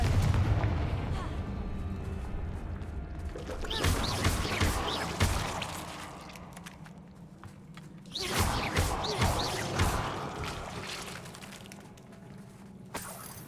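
Confringo spell explosions in the Hogwarts Legacy video game, two clusters of heavy booming blasts with crackling debris, loud and close, separated by a quieter stretch of game ambience.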